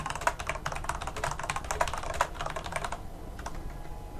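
Rapid typing on a computer keyboard while working in the Creation Kit, a dense run of close, crisp key clicks that thins out to a few isolated taps near the end.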